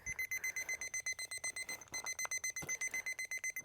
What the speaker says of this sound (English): the unit nulls out, just like that, how it stops alarming is where the wire is